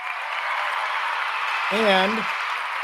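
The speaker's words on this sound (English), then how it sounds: "Let's give him a clap here" An audience claps for Michael Valdez, a real estate company president, with a steady wash of hands from a crowd while a voice briefly speaks over it.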